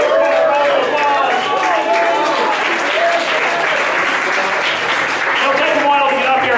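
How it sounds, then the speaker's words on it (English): A large audience applauds and cheers for performers gathered on stage at a Thunderdome variety show, a dense, steady roar of clapping sustained throughout with crowd voices mixed in. "let's have all of our Thunderdome artists on stage for one more giant round of applause"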